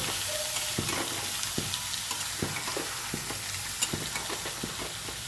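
Barnyard millet rice is stirred in a hot pan, a constant sizzling hiss broken by regular scraping knocks of the spoon, close and fairly loud.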